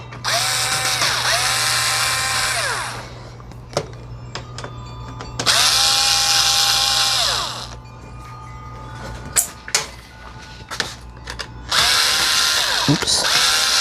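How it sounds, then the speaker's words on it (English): Power drill backing screws out of a blue Lasko B20308 box fan from 2015-16: three long whining bursts of the motor rising and falling in pitch, separated by quieter gaps with clicks and handling knocks, close and loud. "So we're going to remove these 6 screws."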